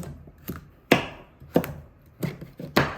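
Kabocha squash is chopped into pieces with a knife on a cutting board, giving six sharp, close thuds at an uneven pace, each ending quickly.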